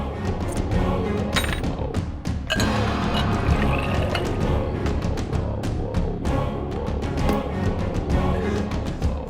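Water poured into a glass at home, a liquid splashing and filling sound with a few clinks and thuds, close by and steady over several seconds.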